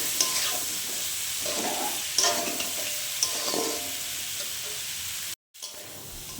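Salt, turmeric powder and chilli powder fry in a pan while being stirred, making a continuous crackling sizzle with scraping spoon strokes throughout, briefly cutting out near the end before the sizzle resumes.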